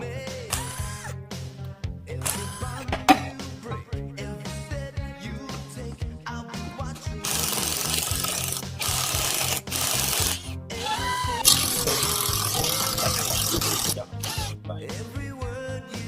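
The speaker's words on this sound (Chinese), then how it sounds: "在拆之前呢，我们先把表面清洗干净。" Cleaning the outer surface of a Cadillac ATS rear differential with worn bearings before teardown, workshop hissing spray and scrubbing bursts mixed with tool clatter, close and loud, with background music underneath.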